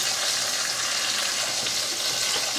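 Chopped onions sizzling in a hot pot for slow braised pot roast, a loud, steady frying hiss with light stirring that runs the whole time and is heard alone.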